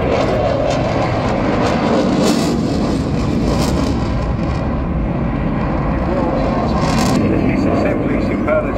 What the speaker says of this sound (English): No surprise really how this aircraft has developed, its immense performance and maneuverability, massive weapon capabilities